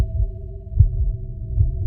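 A slow, muffled heartbeat thumping low and close, two soft beats over a steady low hum in an animated short story, with no voices.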